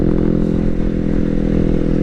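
A Honda CBR250RR motorcycle engine running close up and loud, a steady throbbing drone under light throttle with no talk over it.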